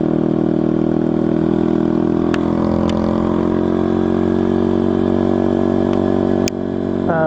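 An SSR TR160 motorcycle engine idles steadily up close, a loud, even mechanical drone with a few faint clicks and a brief change near the end.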